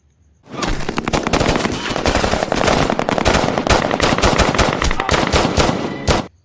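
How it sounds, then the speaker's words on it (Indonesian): Sustained, dense burst of automatic gunfire in a film battle, with rapid overlapping shots, loud and continuous for about six seconds before cutting off abruptly. "Baku tembak pun terjadi."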